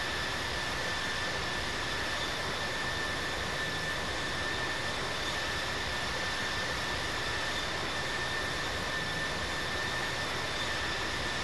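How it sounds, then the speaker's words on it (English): A jet airliner in the Infinite Flight simulator rolls for takeoff on runway 19 at Townsville, its engines a steady, loud roar with a faint high whine running through the whole stretch. "ready for takeoff at runway 19, remaining in the pattern"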